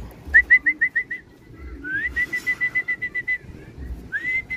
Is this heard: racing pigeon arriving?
yes